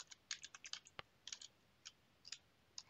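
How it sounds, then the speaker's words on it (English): Someone types on a computer keyboard, a string of quiet, crisp key clicks in short irregular bursts with brief pauses, close by and without talk. "we can go to our web browser and type in the IP address of the Pi"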